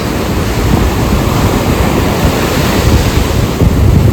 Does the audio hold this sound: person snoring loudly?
no